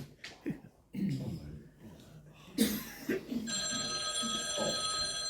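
An office telephone rings with a bright, sustained electronic bell, following a few breaths and shuffling sounds close by.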